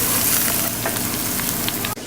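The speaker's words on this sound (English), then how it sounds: "I'm gonna cook the broccoli for about 15 seconds" Broccoli sizzles and crackles steadily in a hot pan, a loud continuous fry that cuts off abruptly near the end.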